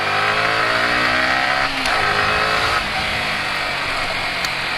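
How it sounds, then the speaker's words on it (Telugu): A Yamaha R15 motorcycle roars loudly and continuously while being ridden, its exhaust note rising and falling as it revs, with no talking over it. "ఆ ఎగ్జాస్ట్ నోట్ అయితే అసలు ఎట్లా అరుస్తుంది అంటే బండి, సూపర్ ఉంటుంది ఎగ్జాస్ట్ నోట్ అయితే"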